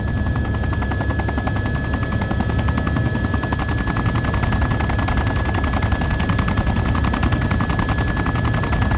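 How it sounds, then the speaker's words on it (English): Continuous, loud automatic machine gun fire in the video game ArmA 2, a dense rattling stream of rapid shots that runs unbroken for the whole stretch with no pauses. "Machine gun."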